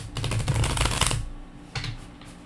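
A brisk, close riffle shuffle of a tarot deck lasting about a second, followed by a softer rustle as the deck is squared.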